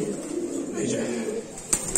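A Lahori pigeon held in the hand gives soft, low cooing close by, under a voice, with a couple of brief sharp sounds near the end.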